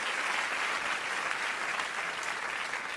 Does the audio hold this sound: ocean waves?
no